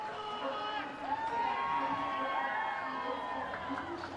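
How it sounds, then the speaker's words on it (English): Spectators at an ultimate frisbee match between Colombia Revolution and Austin Torch cheer after a goal, with loud, continuous shouts and whoops and a commentator's voice running over the noise. "The crowd has something to cheer for."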